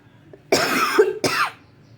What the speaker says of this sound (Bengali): কাশিটা ভালো হইতেছে না